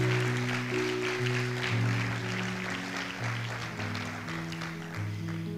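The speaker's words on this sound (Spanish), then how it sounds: "Dale un aplauso al Señor en esta hora." A congregation claps together during a church service, a dense steady wash of applause over sustained keyboard or organ chords that keep playing throughout.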